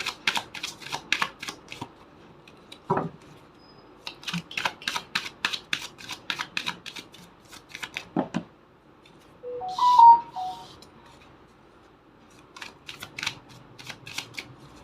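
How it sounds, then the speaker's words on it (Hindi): Tarot cards shuffled by hand in quick bursts of crisp riffling clicks, pausing between rounds, with a brief small clatter midway and no voice. "शफल कर लेती हूँ।"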